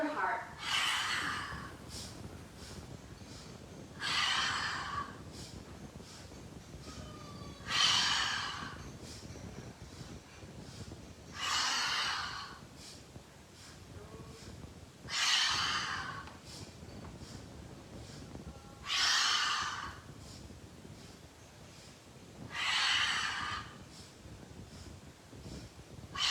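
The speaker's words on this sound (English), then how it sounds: "Exhale through the mouth as you fold and throw it back" Deep, slow breaths drawn in and pushed out through the mouth during a guided breathing exercise, seven long airy rushes at a steady rhythm, close and clear, with a soft instructing voice at times between them.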